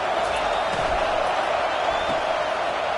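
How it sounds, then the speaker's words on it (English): Loud, steady roar of a stadium crowd in an American football video game, a dense unbroken wash of noise filling the whole stretch as the home fans try to help their defense. "It is getting loud as this crowd tries to help its defense."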